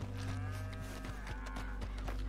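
A cow in a cowboy video game gives a long, low, drawn-out moo that holds steady and close for a couple of seconds, with faint soft thuds underneath.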